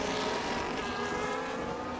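A Formula 1 car at speed during qualifying at the USA Grand Prix, heard as a steady, dense high-pitched engine whine with strong harmonics, constant and loud throughout with no gaps.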